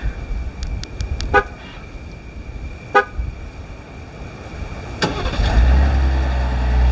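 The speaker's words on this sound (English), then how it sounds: "let's go ahead and start the truck up with the remote start" A 2025 Ram pickup truck started by remote start: a few short horn-like toots and chirps, then the engine cranks and settles into a steady idle rumble near the end, close by with no talk.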